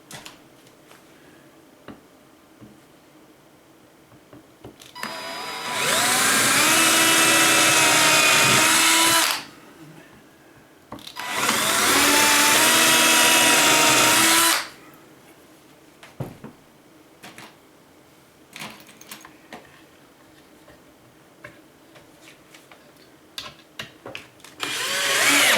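A drill bit sharpener grinds in two long bursts of several seconds each, loud and close, separated by quiet stretches with small clicks and handling noises.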